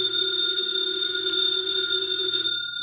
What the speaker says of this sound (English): The phone is ringing. Let it ring.